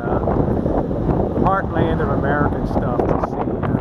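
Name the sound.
strong wind at the Pacific coast, Bodega Bay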